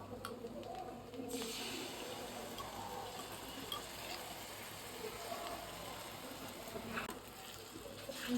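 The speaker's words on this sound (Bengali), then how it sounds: "ব্লেন্ড করে রাখা সরিষা বাটা দিয়ে দিচ্ছি।" Mustard paste sizzling and frying with turmeric, chili, coriander powder and salt in a pan, a steady broadband hiss with soft stirring scrapes, close and moderate in level throughout.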